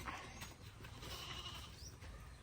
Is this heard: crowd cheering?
no